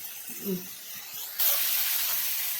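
Onions and green chillies for prawn thokku hit a hot pan with a sudden steady sizzle that continues loudly, after a brief bit of quiet clatter.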